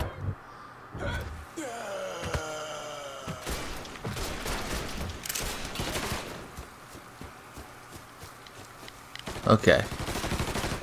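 Gunfire in the video game Mafia III, several sharp bursts and single shots spread across the clip, some near and loud, with a voice speaking briefly between them.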